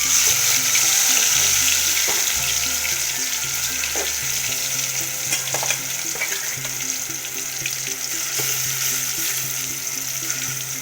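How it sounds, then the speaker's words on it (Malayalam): Chicken pieces fry in hot oil in a home kitchen, a loud, continuous sizzle with occasional stirring scrapes and clinks, close to the pan and with no voices. "അപ്പം എണ്ണ ചൂടായി കഴിഞ്ഞു. അപ്പോൾ നമ്മൾ ചിക്കൻ വരെ വെച്ചിട്ട് കൊടുക്കുകയാണ്."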